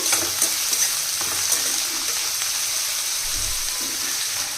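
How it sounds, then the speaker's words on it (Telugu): Four small chopped onions hit hot oil in a pan and fry with a loud, continuous bright sizzle, punctuated by a few crackles and a low stirring thump near the end. "ఆయిల్ వేడైంది ఇప్పుడు ఉల్లిపాయలు వేయాలండి నాలుగు ఉల్లిపాయలు ఇలా చిన్న చిన్నగా కట్ చేసి వేసాను"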